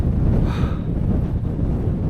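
Strong wind buffets the microphone on an open Peak District moor near Kinder Downfall, a continuous loud low rumble with gusty swells and no talk.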